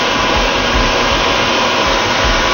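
A grinding wheel wears steadily into a thick crystal baptismal font, making a loud, continuous whirring drone with a faint low pulse throughout.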